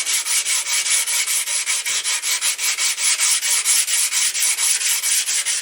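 Old thin varnish being sanded off a wooden pistol stock by hand, about four even back-and-forth strokes per second, close, loud and unbroken, with no voices.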